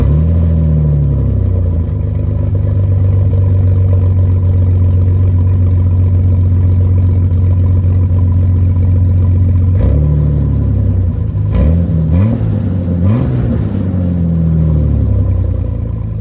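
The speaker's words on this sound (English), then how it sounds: "start the engine up without a muffler on it just to" A Jeep Cherokee engine runs with no muffler fitted, a loud, close, throaty idle with heavy low rumble and clatter, broken by a few sharp revs near the end.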